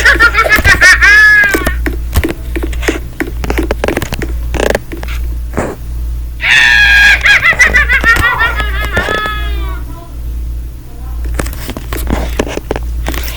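In the Roblox game Brookhaven, an eerie clown sound with high warbling, giggling tones comes in two bursts, loud over a low droning background and scattered clicks.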